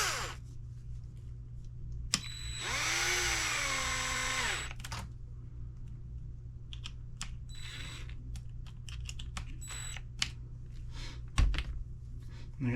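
A power drill drives 3x12mm V-head screws lengthwise into an Arrma Limitless RC car, with one sustained whirring burst with a rising and falling pitch, followed by scattered clicks and taps of handling parts.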